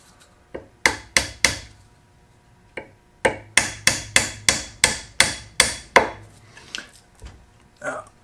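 Wooden wedges and parts of a Krenov-style trestle horse are pounded tight with sharp, close hammer blows, first scattered and then in a quick run of about a dozen hits that taper off.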